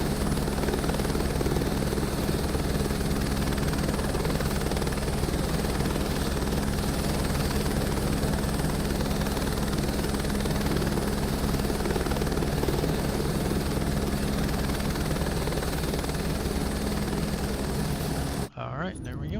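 An H125 helicopter in Microsoft Flight Simulator 2024 drones with a loud, steady turbine whine and rotor hum that holds throughout, then cuts off abruptly near the end.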